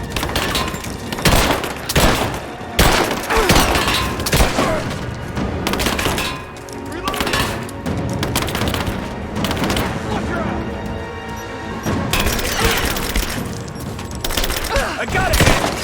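Sustained gunfire in the video game Rise of the Tomb Raider, with repeated sharp shots and bursts, thuds and splintering impacts in dense clusters across the whole stretch, loud and close, with occasional brief voices beneath.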